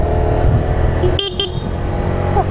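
Loud air horn fitted to a 2017 Kawasaki Z125 motorcycle gives two short blasts in the middle, over steady engine and road noise while riding with two people aboard.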